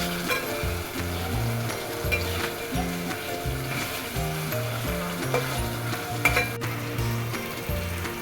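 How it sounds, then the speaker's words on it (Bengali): Hilsa fish pieces fry in a spiced masala, giving a steady, close sizzle with light stirring throughout, and melodic background music runs beneath it. "মশলা কষানো হয়ে গেলে তাতে ইলিশ মাছগুলো দিয়ে ভালো করে কষিয়ে আলাদা বাটিতে তুলে নিব"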